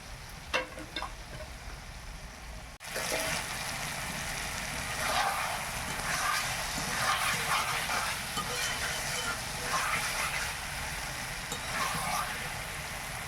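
Chicken meat sautéing and sizzling in a pan over a village kitchen fire, a steady hiss with occasional stirring scrapes, starting abruptly and continuing evenly, near and moderately loud with no talk.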